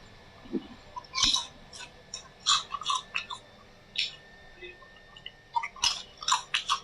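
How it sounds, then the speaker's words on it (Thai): Someone chews a crispy baked purple sweet potato snack up close, with irregular sharp crunches and bites spread across a quiet background. "อันนี้กินได้เป็นขนมแบบอบกรอบเป็นพวกแบบว่า เป็นมันอย่างเงี้ยมันมันม่วงมันม่วงกินได้ค่ะ"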